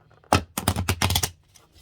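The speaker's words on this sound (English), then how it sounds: "give me a little bit of time to shuffle these cards." A deck of tarot cards is shuffled up close in a quiet room, with a quick run of sharp riffling flutters and taps lasting about a second, then fading to silence.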